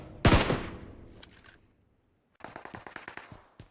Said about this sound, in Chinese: 突然，远处再次传来枪声